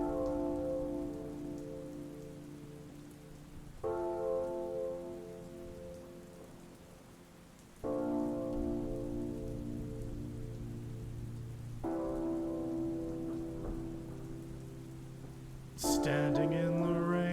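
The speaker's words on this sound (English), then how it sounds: "Standing in the rain" Steady rain falls throughout under slow, sustained tonal music chords that come in repeated phrases, with a brighter swell near the end.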